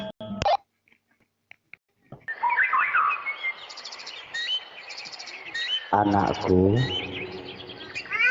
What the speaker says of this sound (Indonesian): pagi ini suara kicau burung berenjak bersahutan